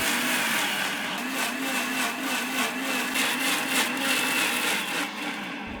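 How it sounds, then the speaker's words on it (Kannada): A mixer grinder whirs continuously, blending ripe mango with cardamom into a paste for mango ladoo; the motor's drone is loud, close and even throughout, with no voices. "ನಂತರ ಮಿಕ್ಸಿ ಗ್ರೈಂಡರ್ಗೆ ಹಾಕಿ ಚೆನ್ನಾಗಿ ಪೇಸ್ಟ್ ಮಾಡ್ಕೊಳ್ಳಿ"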